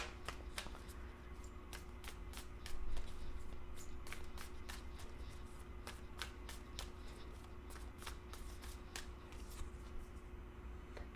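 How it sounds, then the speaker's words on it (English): Someone riffles through a deck of Work Your Light oracle cards by hand. The cards make quick, close, crisp flicks and slaps in an uneven, continuous rhythm over a quiet room. "I feel drawn to pull an oracle card, so let me just pull one"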